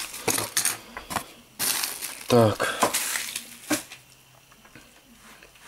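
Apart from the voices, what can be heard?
packing paper being handled and cleared away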